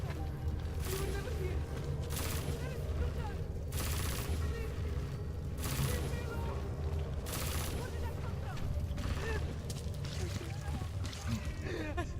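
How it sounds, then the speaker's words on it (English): Gunfire in the video game Deus Ex: Mankind Divided, with several bursts of shots cutting through a dense, steady backdrop of game noise and mechanical rumble, while in-game voices talk over it. "Weapon fire! Get down!"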